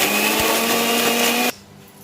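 A kitchen mixer grinder purees onion, garlic cloves and jaggery into a paste, its loud steady whirring motor droning close up for about one and a half seconds before it abruptly cuts off into quiet.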